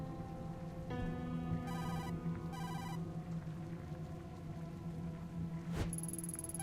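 A phone ringing in the point-and-click game Tokyo Dark: Remembrance, two short trilling electronic ring bursts over a low ambient hum, followed by a sharp hit and a high tone.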